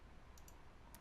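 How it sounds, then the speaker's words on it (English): A computer mouse clicking on a software apply button, a few tiny sharp clicks, very quiet and close over faint room hum. "I'm going to click on apply"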